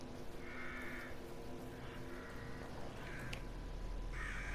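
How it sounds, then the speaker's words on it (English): Crows cawing in the horror video game The Evil Within, several harsh, nasal caws in short bursts over a low ambient drone, sounding moderately distant with no voices over them. "What is that? Oh, crows"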